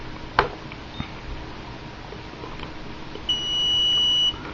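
An RD6000 RC radio transmitter fitted with an ASAN 2.4 GHz module and a 3-cell LiPo powers on with a short chirp, then after a pause a second, longer steady electronic beep lasting about a second.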